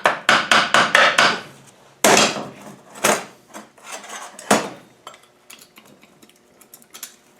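Sharp metallic taps and knocks ring out in quick clusters as pry tools work an LT77 gearbox casing apart off its dowels, loud and close, then thinning into scattered lighter clicks.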